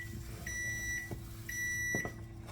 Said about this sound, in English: so we're going back to the microwave and check this.